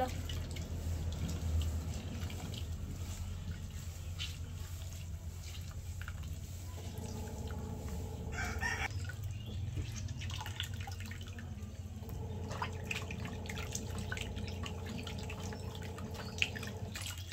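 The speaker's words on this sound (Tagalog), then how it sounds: "Akin na pong hugasan ito pong kinayod na santol" Grated santol fruit is washed in water, with quiet continuous splashing, dripping and sloshing close by and a few brief louder swishes of handling, no voices.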